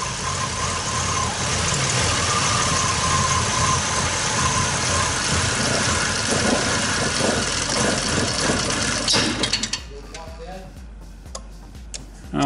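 A 2003 Chevy Impala engine, under test for a fuel pump fault, revs up and holds a steady loud roar for about nine seconds, then drops back to a quieter idle with ticking, with speech around it.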